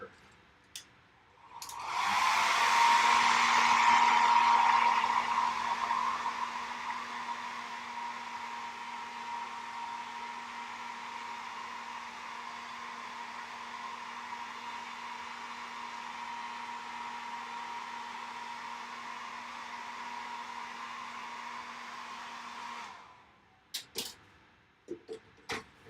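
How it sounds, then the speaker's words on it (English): A hair dryer starts up and blows steadily with a constant whirring hum for about twenty seconds before clicking off. "let's get the hair dryer on there."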